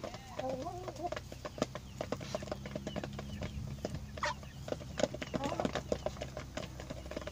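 Hens pecking at corn meal give off scattered soft clucks among clicking pecks and light scuffling, close by, while a person talks over the birds.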